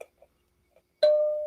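A couple of faint plucked taps on a kalimba, then one clear, bright metallic note that rings out and slowly fades.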